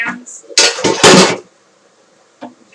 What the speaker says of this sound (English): I have so many pots and pans.